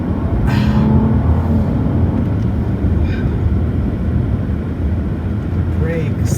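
A BMW 7 Series sedan is driven in a video game, its engine giving a loud, steady low drone with a few faint higher whines and hisses throughout.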